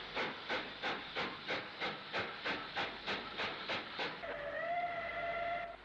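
Bulleid Pacific steam locomotive Clovelly heading for Weymouth in March 1966 beats out about a dozen rhythmic exhaust chuffs, then a sustained steam whistle sounds over a rising hiss.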